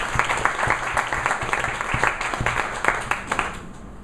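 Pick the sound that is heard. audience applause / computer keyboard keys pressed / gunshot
audience applause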